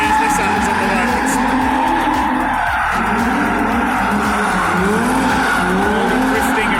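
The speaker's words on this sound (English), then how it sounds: "Hope you can hear me over the squeal of tyres in these Nissans at the moment." Tyres on drifting Nissan Skyline cars squeal and skid continuously at the Autosport Show Live Action Arena, loud and sustained, with engines revving and a commentator talking over the noise throughout.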